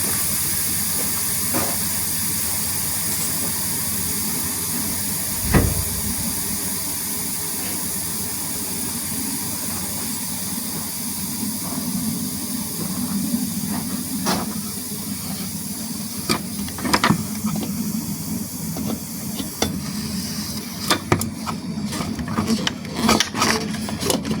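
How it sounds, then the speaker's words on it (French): A loud, steady indoor air conditioner blower hisses and rushes continuously on its cold setting, with occasional knocks and scrapes near the end. "là j'ai mis le souffleur en mode froid"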